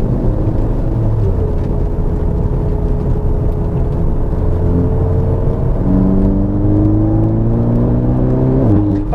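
Tuned VW Golf R MK7 engine running in race mode, a loud steady droning rumble with a rising whir as revs climb, a gear change near the end and no speech over it.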